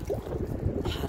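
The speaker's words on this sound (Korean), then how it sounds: "지금 바람이 이렇게 불어요." Rainy-weather wind blows outdoors, a steady, gusty rumble buffeting the microphone throughout the short stretch without a clear break.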